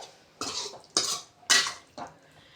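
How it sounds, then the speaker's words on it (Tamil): Egg fry masala is stirred in a pan, four distinct scraping strokes in an uneven rhythm, each a short rough burst, close and fairly quiet with near silence between. "இது மாதிரி கிண்டி கிளறிக்கோங்க"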